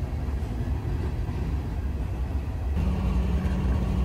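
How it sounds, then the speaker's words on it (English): A CSX GE ES44AC-H locomotive built in 2012, hauling a loaded coal train of 110 cars on a West Virginia line, gives a steady low rumble and rolling rail noise that deepens and grows slightly louder partway through, with no voices. "I did hear the train with 110 loads and it would be backing onto the number 1 main instead of pulling into Rush Run siding just outside of town."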